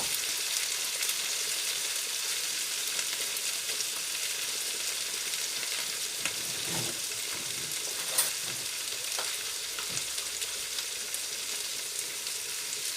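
Crushed plum tomatoes and garlic frying in a pan: a soft, steady sizzle with an occasional stir or clink, close and without voices.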